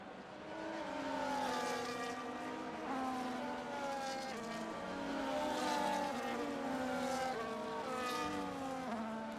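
Formula 1 race cars on the formation lap at the Canada circuit in the video game F1 25: several high-pitched engine whines layered together, shifting up and down in pitch at a steady, moderate level.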